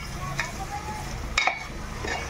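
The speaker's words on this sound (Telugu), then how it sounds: "ఉప్పు వేసుకుని బాగా కలపాలి" Chopped onions with salt are stirred in a pan over the heat, a soft sizzle under a few spoon scrapes against the metal.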